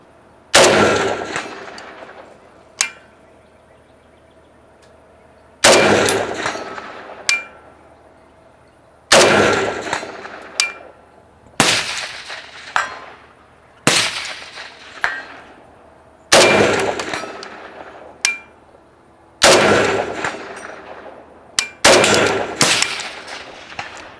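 Rifle shots ring out on a hot, humid Texas range, each sharp crack followed at 200 yards by the clang of a steel target, about ten loud shots at irregular intervals with long decaying echoes.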